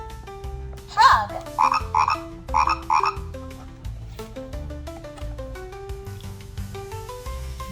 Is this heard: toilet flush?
no